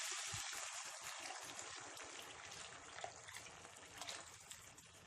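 About 500 ml of water gushes steadily into a pan of chana karela masala on high flame, a faint, continuous splashing pour with no other sounds.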